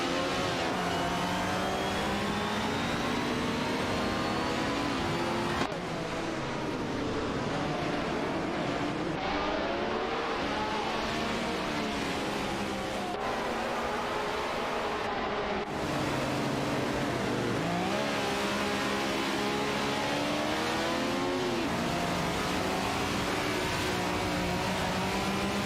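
Race cars in an AI racing video game roar continuously as two cars battle side by side, engines whining through rising and falling gear shifts and revs, loud and unbroken for the whole stretch.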